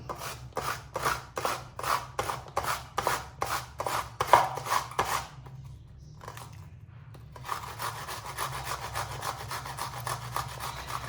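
Cucumber being grated for rujak, a rapid series of rhythmic rasping strokes, about a dozen close scrapes, then a brief pause and a softer, steadier scraping.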